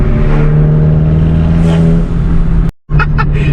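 MK6 Volkswagen Jetta engine droning loud and close with a steady low hum that swells in revs, cutting out abruptly for a moment before resuming.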